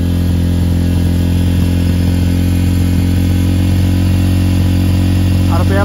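Motorcycle fitted with an RSS WR exhaust revving steadily at mid RPM, a loud, dense, continuous engine roar close by with no pauses.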